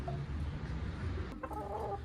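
A chicken clucks close by outdoors in a rural village yard, with a low continuous rumble underneath and a brief sharp noise near the end.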